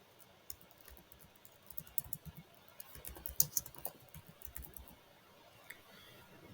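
Rapid keyboard typing as a name is entered into a donation form on a reforestation app, with irregular light clicks in quick bursts, quiet and close, and no voice.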